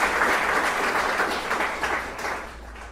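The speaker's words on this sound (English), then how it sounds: "A round of applause for" Audience applause at a public event, a dense round of clapping that starts full and gradually thins out over a few seconds.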